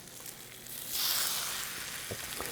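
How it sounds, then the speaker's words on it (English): Chicken cakes fry in a pan with a steady sizzle that swells louder partway through, a continuous bright hiss with a few small pops and crackles near the end. "That's what you want to hear, a nice little sizzle."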